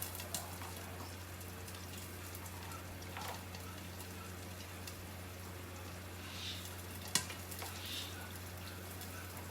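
Sliced onion sautés in a pan for turmeric curry fish, giving a soft, even frying hiss throughout with a few faint ticks and one small click.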